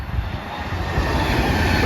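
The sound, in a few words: Avanti West Coast Edinburgh–London Euston train passing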